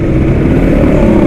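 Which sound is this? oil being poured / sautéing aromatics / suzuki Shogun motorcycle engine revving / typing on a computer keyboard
suzuki Shogun motorcycle engine revving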